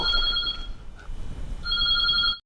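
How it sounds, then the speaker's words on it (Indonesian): A telephone bell rings loudly in two bursts separated by a short pause, then cuts off abruptly. "telepon pun berbunyi."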